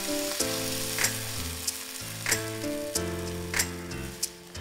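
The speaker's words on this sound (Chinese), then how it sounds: "倒入蚌肉略微煸炒" Clam meat stir-frying in a hot pan, a loud steady sizzle with periodic scraping stirs of the spatula, no voices.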